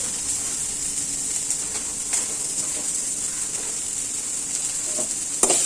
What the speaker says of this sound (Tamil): நல்லா வறுத்துக்கலாம்.